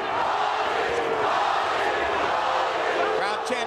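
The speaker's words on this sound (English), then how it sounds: "Crowd chanting, Pauly, Pauly, Pauly." A boxing arena crowd chants a fighter's name in a dense, continuous roar of massed voices, steady and moderately loud, with no single clear speaker.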